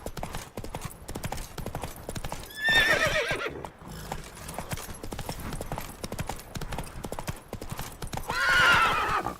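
A horse gallops in The Witcher 3 video game, its hooves drumming in a fast, steady rhythm close by, broken twice by loud whinnies. A voice speaks briefly over the hoofbeats.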